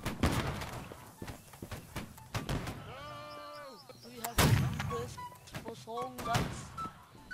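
A musket shot in Holdfast: Nations at War goes off mid-clip, a sharp loud blast among scattered battlefield bangs and distant gunfire, with a voice talking over parts of it.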